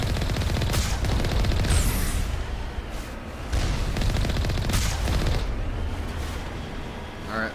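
Dense, loud gunfire fills a Mass Effect Legendary Edition firefight: rapid automatic bursts and heavy booming shots come in waves, almost without pause.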